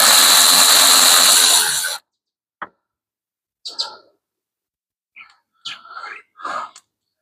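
A power tool whirs loudly on the last bolts of a Jeep Patriot CVT transmission for about two seconds, then cuts off, leaving a few short chirps in quiet.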